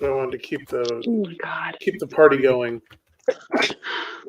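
People talk quickly, then after a brief pause comes a single short, sharp sneeze, followed by more speech.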